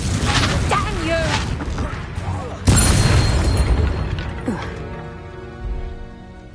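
A Confringo spell explodes in the Hogwarts Legacy video game: a loud, booming blast in the middle, with a rumbling tail that fades slowly, among other game effects and a shouting voice.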